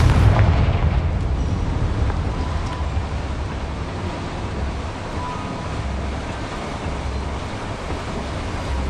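A Confringo blasting spell explodes in the Hogwarts Legacy video game inside a small mine, a loud, dense boom at the start that fades into a long rumbling roar.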